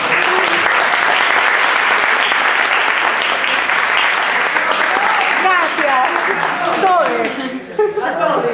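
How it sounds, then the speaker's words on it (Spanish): Loud, sustained audience applause at an academic panel, dense clapping filling the whole stretch, with a few voices and laughter surfacing near the end as it begins to thin. "Te damos un fuerte aplauso."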